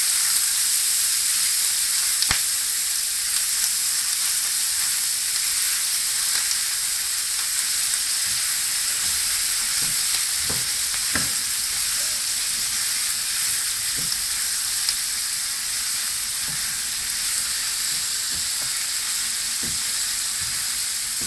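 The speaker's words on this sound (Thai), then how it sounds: "เราก็จะผัดเป็นเวลา 10-12 นาทีนะ" Bacon, celery and onion stir-frying for clam soup give a steady, close sizzle and hiss throughout, with occasional light scrapes and taps of the stirring utensil against the pan.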